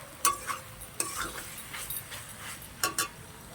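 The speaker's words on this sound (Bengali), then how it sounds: "একটু ভালো করে নাড়াচাড়া দিতে হবে" A spatula scrapes and taps in a pan while a nearly dry vegetable curry with kalonji sizzles faintly underneath, in a few irregular stirring strokes.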